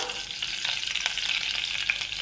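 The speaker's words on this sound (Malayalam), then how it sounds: "കടുക് പൊട്ടി വരുന്നുണ്ട്" A quarter teaspoon of mustard seeds pops in hot oil, sizzling steadily with quick crackles and small pops scattered through, close up and fairly loud, with no voices.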